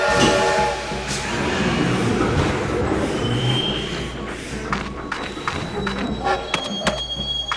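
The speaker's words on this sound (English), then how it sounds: "Sounds like the turntable moved just now." Heavy mechanical rumble and grinding of a train turntable turning in the video game Lionel Trans-con, steady and loud, with faint metallic clanks and a brief high whine partway through.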